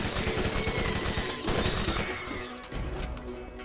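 Rapid SMG gunfire rattles in bursts in the video game Borderlands, with dense automatic shots, impacts and crashes layered over game sound, loud throughout.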